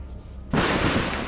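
A sudden loud, broadband crack of thunder breaks in after half a second of quiet and rolls on as a dense, sustained rumble to the end, with no voices.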